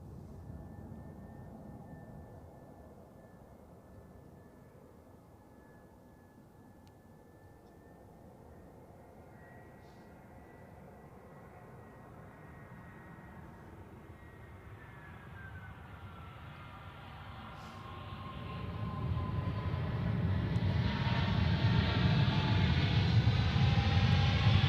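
An Emirates airliner coming in to land on runway 14 at Zurich Airport, its jet engine whine rising from a faint distant tone into a loud, close roar and rumble as it sweeps overhead.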